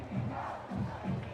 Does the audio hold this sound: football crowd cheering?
yes